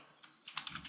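Typing on a computer keyboard while coding in Python, a few soft, close key taps in an irregular rhythm, faint and with no talking over them.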